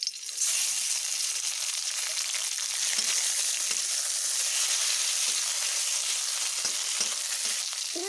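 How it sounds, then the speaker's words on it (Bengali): Tomatoes hit a hot pan of oil with cinnamon and cardamom, producing a loud, steady sizzle and crackle of frying that continues evenly throughout, with occasional faint stirring. "এবার আমি এখানে টমেটোগুলোকেও দিয়ে নিচ্ছি।"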